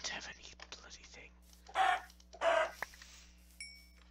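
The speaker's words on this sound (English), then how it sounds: "Kill the chickens since I don't have any bloody thing." Minecraft chickens give two short clucking bursts near the middle, each about a third of a second, over soft whispery game noise and a low steady hum, with a faint chime near the end.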